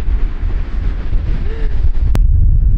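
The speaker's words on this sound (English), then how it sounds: "it's so windy" Strong wind buffets the microphone in a loud, continuous low roar, with a faint wash of surf beneath it.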